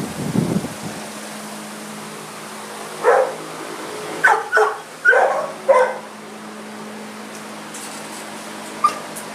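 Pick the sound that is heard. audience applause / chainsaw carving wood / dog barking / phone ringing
dog barking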